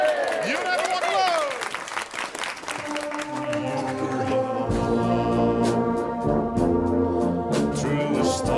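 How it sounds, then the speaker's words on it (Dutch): Applause and crowd noise fill a live farewell gala for a duo before it gives way to music as a song begins, with the audience sound loud and dense at first. "Applaus!"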